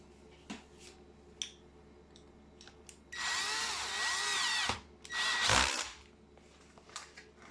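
A power drill drives screws during repair of a Stark HM-1350 PRO drill-mixer, two loud close whirring bursts, the second shorter, with faint clicks and handling noises around them.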